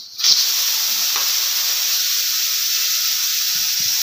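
A sharp burst of steam hisses out of a pressure cooker being opened, then keeps rushing steadily at the same level, a loud continuous jet with no voices over it.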